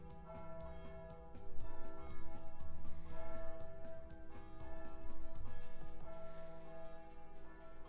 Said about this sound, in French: casse les couilles ces cloches de merde là